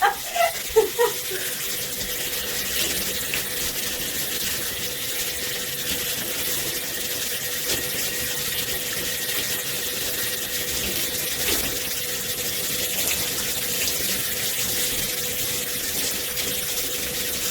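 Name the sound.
water running while rinsing hair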